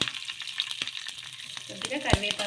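Vegetables, green chillies and curry leaves frying in hot oil, a close crackling sizzle broken by repeated spatula scrapes and stirring knocks, with a louder clack near the end.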